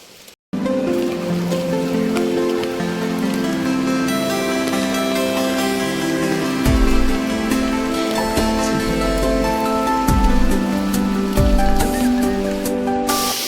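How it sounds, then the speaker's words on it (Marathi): Water pours down a small waterfall in the rainy Konkan countryside, making a loud, steady roar that runs unbroken throughout, with a few deeper surges and thumps near the end. "हे बघा सगळं पाणी इकडे खाली जातं वॉटरफॉल"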